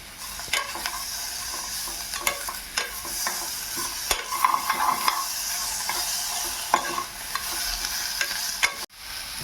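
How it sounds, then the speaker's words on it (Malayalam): Chopped tomato sautéed in a pan for a village-style green peas curry, with a continuous sizzle and repeated sharp scrapes and clicks from stirring, close and fairly loud, with no talking. "ശേഷം ഒരു തക്കാളി കട്ട് ചെയ്തതും കൂടി ചേർത്ത് വഴറ്റിയെടുക്കാം."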